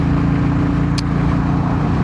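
A Royal Enfield Bullet 350 single-cylinder motorcycle climbing a hill on a ride, its engine a steady, loud, low thumping drone with an even pulse, close and continuous with a brief faint tick midway.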